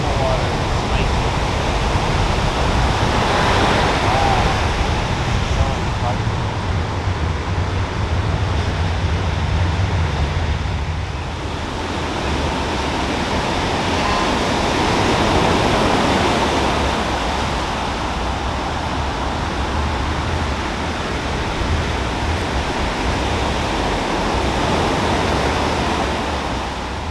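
Surf breaking on the shore at Ruby Beach on the Washington coast, a broad continuous roar of waves with gentle swells in loudness, steady and fairly close throughout.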